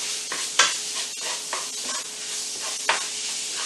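Crumbled ground pork fries in a pan for a gnocchi and pork ragu, a constant loud sizzle with a few scraping stirs and utensil knocks punctuating it.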